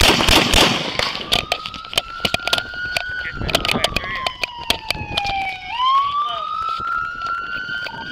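Rapid volley of sharp gunshots during a police shootout in which a suspect fires a shotgun at officers, loud cracks and bangs over a wailing police siren, with shouting voices mixed in.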